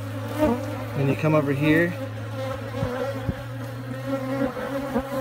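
Honey bees buzzing around an open beehive during a frame inspection, a close, continuous insect hum with individual bees droning past while a person speaks briefly.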